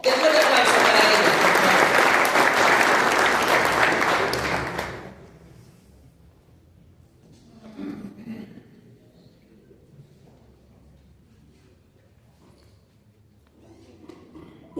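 An audience at a labor law conference applauds two union secretaries with a full, loud burst of clapping that lasts about five seconds and then cuts off, leaving quiet room tone with faint murmurs.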